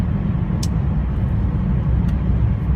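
A Fiat 124 Spider cruises on the road with the top up and windows closed, a steady low engine and tire drone heard from inside the cabin. Faint brief clicks break through it once or twice.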